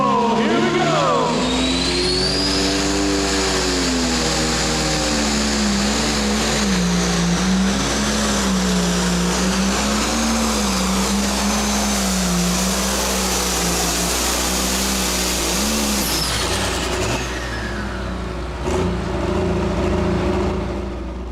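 A Case IH pulling tractor roars at a county fair tractor pull, its engine loud and sustained for most of the run with rising and wavering pitch, then cutting off near the end while an announcer talks over it.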